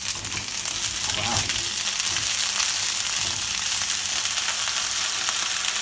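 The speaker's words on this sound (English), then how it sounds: "Let's go in with the ginger and garlic." Ginger and garlic hit hot peanut oil in a wok, giving a loud, steady, bright sizzle that runs throughout, with a brief voice exclaiming early on.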